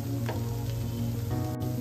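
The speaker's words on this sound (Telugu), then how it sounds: "అలా మొత్తం వేపులో కాల్చుకోవాలి. ప్యాన్ అటు ఇటు తిప్పుకుంటూ కాల్చుకోవాలి." Rava dosa batter sizzling and frying steadily in a hot pan, a constant close crackle with a couple of faint scraping touches.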